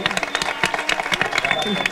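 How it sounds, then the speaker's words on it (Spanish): Live audience clapping at an evening town fair event honouring a mayor, a dense steady patter of many hands filling the brief moment, with a voice speaking over it. "Un fuerte aplauso por esta decisión y por este alcalde."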